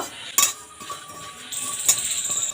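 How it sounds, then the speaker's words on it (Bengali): Coriander, fennel and cumin seeds dry-roasting in a hot wok: a few sharp metal clinks of a spoon against the pan, then a soft steady hiss of toasting seeds, fairly quiet with no talking. "শুকনো কড়াইতে আমি কিছু শুকনো মশলা ভেজে নেব"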